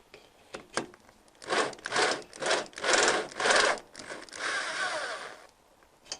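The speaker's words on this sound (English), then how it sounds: "another step with our step drill" A step drill whirs in several loud pulses close up, grinding through metal in repeated short bursts before stopping.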